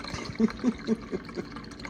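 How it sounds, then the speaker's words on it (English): A margarita poured from a cocktail shaker into a margarita glass gives a short run of gurgling glugs, about five soft splashes in quick rhythm. "and we pour into our fancy margarita glass"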